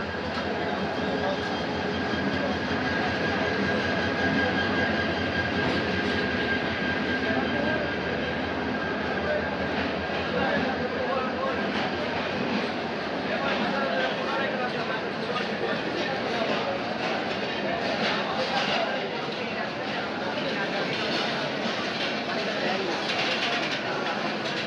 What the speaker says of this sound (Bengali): আমাদের স্টেশনে প্রবেশ করলো ঢাকা থেকে কক্সবাজারগামী কক্সবাজার এক্সপ্রেস ট্রেনটি